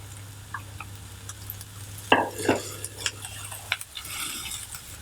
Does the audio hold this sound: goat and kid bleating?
no